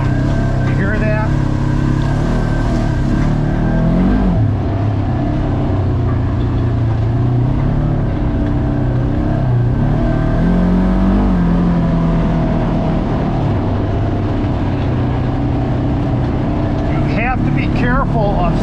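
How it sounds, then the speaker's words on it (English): A Polaris RZR UTV riding a narrow wooded trail, its engine droning loudly and steadily with a whining clutch moan that rises and falls as the machine bumps over rough ground, continuous throughout. "You can hear that clutch moan."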